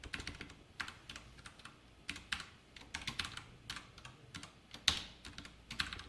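Someone types Spring Boot code on a computer keyboard, producing soft, irregular clusters of key clicks with brief pauses, close and alone without any voice.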